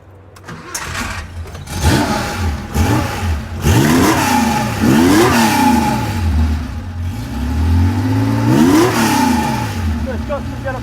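A Porsche 911 fires up and is revved repeatedly, its engine rising and falling in sharp, loud blips over a rough idle, close by, with people talking around it.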